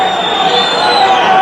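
A football crowd at a Modena home game roars in a dense, continuous wall of voices, loud and sustained, with a slight rise in intensity toward the end.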